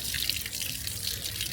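Drinking water pours from a tap at Düden Waterfall in a steady, even rush of splashing water, with no break and no voices.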